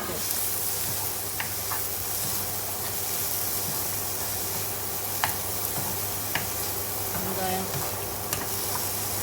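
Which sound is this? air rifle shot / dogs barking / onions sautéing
onions sautéing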